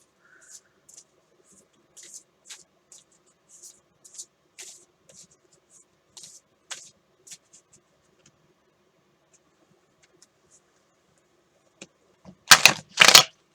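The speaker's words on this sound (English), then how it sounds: "Shuffling takes forever." Tarot cards being shuffled give soft, scattered papery taps and riffles, quiet and close, spaced irregularly, then a brief louder flurry of riffling near the end.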